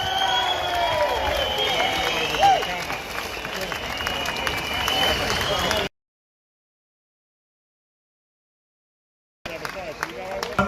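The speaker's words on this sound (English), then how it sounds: "Please give her a massive round of applause." A crowd at a street demonstration claps and cheers outdoors for several seconds, a loose mass of applause with voices mixed in, broken by a stretch of silence before the noise resumes.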